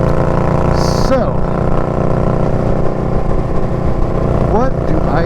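Loud, steady engine drone from an unbaffled Dirty Bird racing exhaust, a rough low rumble held throughout with brief pitch sweeps as it revs, voices faintly under it.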